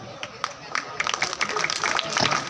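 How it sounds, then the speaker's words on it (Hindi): At a school felicitation ceremony, an audience claps in welcome for a guest. The applause is brief and steadily swelling, with some talk audible underneath. "तालियां और गर्मजोशी से इस प्रोग्राम को ज़रा सेलिब्रेट कीजिए।"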